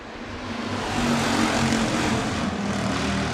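Hobby stock race cars at Crawford County Speedway, their engines rising together into a loud, dense, continuous roar as the field takes the green flag, with no voices heard.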